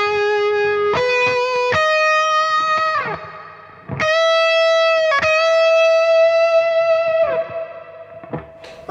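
An electric guitar plays sustained chords through a Strymon BigSky pedal's swell reverb, each chord blooming in and ringing out in a lush, distorted wash, alone with no talking.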